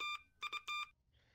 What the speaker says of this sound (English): So we hear some beeps